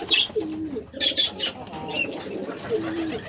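Pigeons coo in a loft, several low rolling coos repeating across the clip, with small birds chirping and tweeting nearby, all fairly close.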